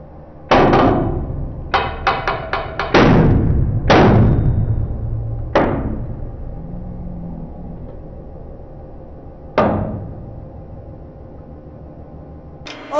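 A hydraulic press crushes an Audi R8 brake disc, producing loud, sharp metallic cracks that ring and decay, with a quick cluster early on followed by single bangs spaced seconds apart.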